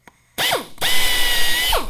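A power drill bores a hole through the fuselage skin of a Cessna 140 during a repair, in two loud whining bursts that spin up and wind down, the second one longer.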